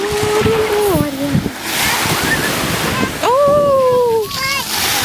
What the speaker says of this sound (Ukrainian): Море, море.